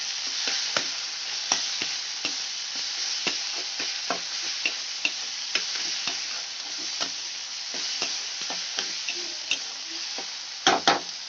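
Chopped tomato with salt and turmeric sizzles and fries steadily in a pan on a gas flame, with repeated spoon stirring clicks and scrapes throughout and a louder clatter near the end.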